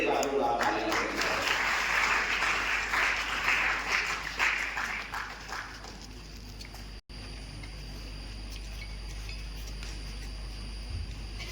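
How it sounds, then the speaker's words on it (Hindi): A crowd applauds loudly for topper students at a coaching centre's award ceremony, the dense clapping holding steady for several seconds before fading into quieter room noise. "अविनाश कुमार जोरदार तालियां बजाएं"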